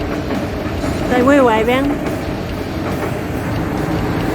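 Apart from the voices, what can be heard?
passing passenger train, The Great Journey Northern Explorer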